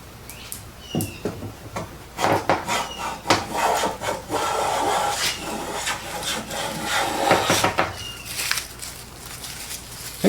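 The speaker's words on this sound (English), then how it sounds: "We're taking a good shaving, nice and wide, mostly the length of the board except for that low spot." An autoset hand plane shaves wide, thin curls along a wooden board in repeated rasping strokes, each a close, steady scrape with clicks at the start and end, and no voices.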